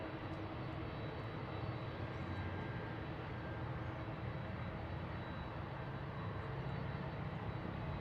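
An Alaska Airlines jet takes off from runway 16 left at Seattle airport, its engines a steady broad distant roar that holds evenly and quietly throughout without fading.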